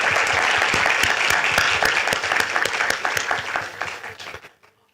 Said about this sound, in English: a round of applause for Kiran sir